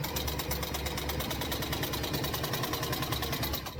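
A sewing machine runs through stitching and back stitching, giving a fast, even mechanical chatter that stays steady and close throughout.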